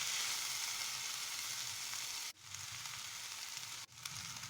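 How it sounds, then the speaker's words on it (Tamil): Schezwan noodles with vegetables sizzle steadily while being stir-fried in a pan, with a continuous close frying hiss broken by two brief scraping stirs, and no voices. "இப்போ வந்து காய்கறிகளோட சேர்த்துட்டு கிளறி விட்டுக்கலாம்."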